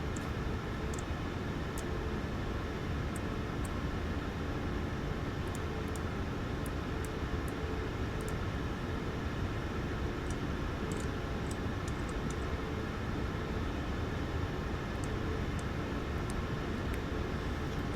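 Boeing 737 MAX engine idling steadily after start in the iFly flight simulator, a continuous broadband roar with faint high ticks running unbroken from start to finish.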